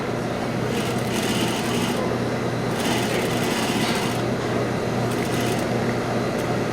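A sewing machine top stitching a shirt collar runs in a continuous, fast mechanical whir with steady buzzing, close and fairly loud, with slight pauses in intensity and no voices.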